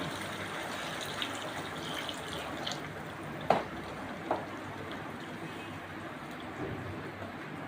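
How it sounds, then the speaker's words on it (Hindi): Hot water in which white beans (lobia) were boiled pours into a white bean curry. The pour is a faint, steady liquid splash, with a couple of small clinks partway through and no talk. "वही पानी में इसमें डाल दूँगी।"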